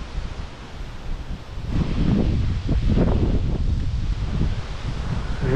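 Gusty wind outdoors while a DJI Mini 3 Pro drone is flown, a rough low rumble that swells louder partway through and keeps buffeting steadily to the end.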